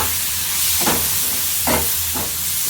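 Eggplant fries in a hot pan with a loud, steady, close sizzling hiss that swells in a few brief surges, with no talking.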